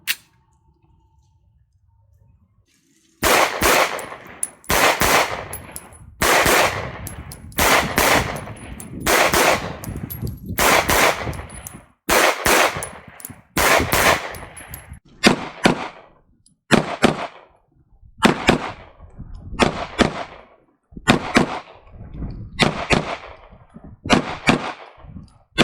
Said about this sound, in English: going to fire 2 shots into each target, transition back and forth